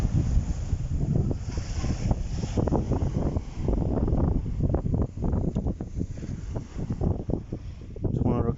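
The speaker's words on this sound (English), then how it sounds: "The wind's actually blowing me hat off me here." Strong wind on Greystones Beach buffets the microphone in a constant loud roar, with someone talking over it almost throughout.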